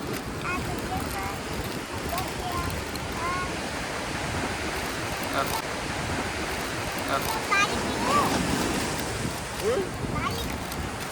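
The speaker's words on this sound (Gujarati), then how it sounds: "અને જો ભાઈ આવો દરિયો મસ્તીનો ભરાઈ ગયેલો છે." Sea waves rolling onto a beach at high tide, a steady broad wash of surf with wind buffeting the microphone, while people talk nearby and children's voices come and go.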